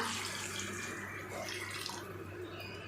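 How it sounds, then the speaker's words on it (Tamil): Water pours steadily into a pot of mutton soup with sesame oil, a continuous close splashing flow that lasts the whole moment. "நமக்கு சூப் எவ்வளோ தேவையோ அதுக்கு தேவையான அளவுக்கு தண்ணி சேர்த்துக்கலாம்."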